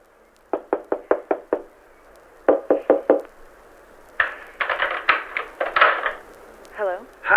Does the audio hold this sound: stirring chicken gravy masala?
no